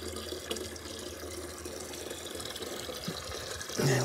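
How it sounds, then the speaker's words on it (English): Tap water runs into a watering can for feeding garden plants, making a steady, close hiss of pouring water that swells slightly louder and splashier near the end as the can fills. "I just slop a bit in the watering can, fill it up, and then feed the plants."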